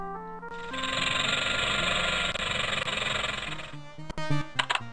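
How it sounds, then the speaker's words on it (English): A rattlesnake's steady dry rattling buzz in the 1993 PC game Kids Zoo holds for about three seconds, then fades into a few sharp clicks and knocks. "A rattlesnake goes."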